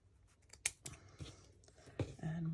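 Scissors snip through a small piece of purple sari silk in a few quick, close cuts, with light rustling and handling noise between them and a faint hum at the end.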